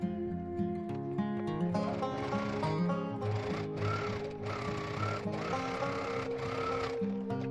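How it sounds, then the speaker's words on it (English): A sewing machine stitches paired fabric handle pieces for a basket bag, with a continuous close mechanical whirr of rapid needle strokes over soft background music. "Sew along the sides with a 1 cm seam allowance."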